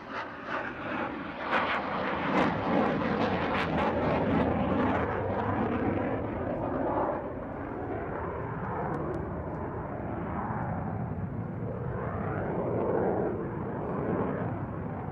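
A display aircraft at the RAF Waddington Airshow passes overhead waving its wings, a broad, sustained engine roar that swells and then holds steady, heard from a distance across the airfield.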